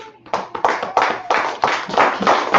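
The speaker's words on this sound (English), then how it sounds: "Clap it up." An audience at a religious feast-closing gathering claps in dense, continuous applause, loud and close, with a voice faintly beneath it.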